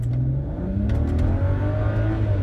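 A 2010 BMW 135i convertible accelerates hard and loudly, with no speech. The engine note climbs steadily through the revs and continues as a strong, rising drone.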